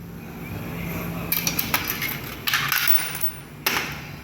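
Several coins, including five-baht coins, clink and clatter into a Thai coin exchange machine in short bursts, with a steady mechanical hum underneath.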